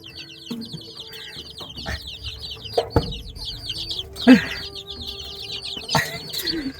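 Country hens clucking among small chicks in a village yard, repeated chirps and soft clucks close by, with scattered thumps and other background noises.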